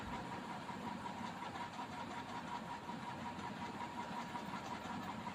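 Sewing machine running continuously as it stitches a blouse lining and buckram piece along the back neck, a steady whirring motor drone close by with no pauses.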